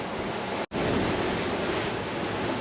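Wind and rough seas on an overnight sail, a dense loud continuous roar of wind and crashing water close to the microphone, broken by a brief dropout.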